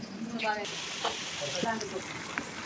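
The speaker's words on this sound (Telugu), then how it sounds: "ఆనియన్స్ ఇలా బాగా వేయించుకోవాలి ఫ్రెండ్స్." Sliced onions deep frying in oil for a Telangana-Andhra style country chicken biryani, a steady close bubbling sizzle with a few faint clinks of a stirring spoon.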